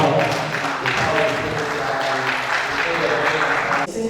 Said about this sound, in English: Please let's clap for the Odirs team as they come up.